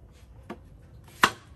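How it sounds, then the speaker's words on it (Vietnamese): A knife slices through taro in a home kitchen, giving two quiet, separate crisp chops with a short pause between them. "Sẵn đây em sắt củ phi môn ra luôn"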